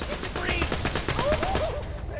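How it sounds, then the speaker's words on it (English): Rapid bursts of gunfire in the VR shooter Borderlands 2 while fighting a bandit, repeated shots crackling steadily for about two seconds, loud and close, mixed with game effects. "I'm just shooting it in the head now."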